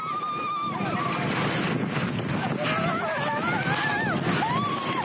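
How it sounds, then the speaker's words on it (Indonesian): Strong wind gusting across an outdoor event ground in Mamuju, West Sulawesi, as a main stage and dozens of vendor tents are blown down; a steady roar of wind with people shouting and talking over it. "Detik-detik angin kencang merobohkan panggung utama dan puluhan tenda UMKM di Kabupaten Mamuju, Sulawesi Barat."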